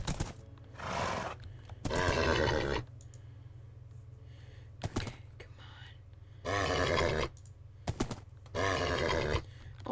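A horse in the Minecraft video game neighs and grunts in several loud, harsh bursts spaced a few seconds apart, with short clicks between them.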